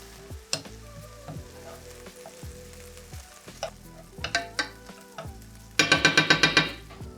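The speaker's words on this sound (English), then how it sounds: "While we wait for our hash browns to finish cooking up and browning" Hash browns fry in bacon grease in a pan with a steady low sizzle, broken by scattered clinks and scrapes of stirring and a sharper burst of crackling near the end.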